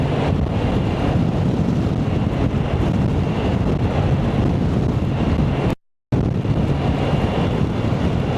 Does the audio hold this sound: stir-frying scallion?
no